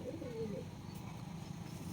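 Giribaz and Madras pigeons coo softly nearby, a low murmuring burble in the first half that fades into a quiet, steady room background.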